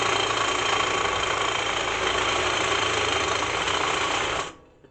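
Cordless power tool running on a nearly dead battery, a steady droning motor whir held for several seconds close by before it cuts off abruptly.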